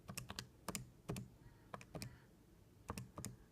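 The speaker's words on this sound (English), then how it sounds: "Now we're going to type in distance" Keys pressed on a TI-80 series graphing calculator, a few sharp clicks in short irregular bursts with quiet gaps, close and fairly soft.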